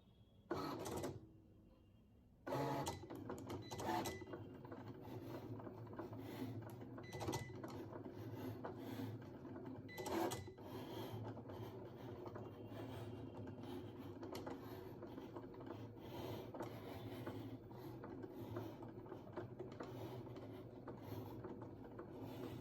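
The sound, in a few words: Cricut Explore 3 cutting machine cutting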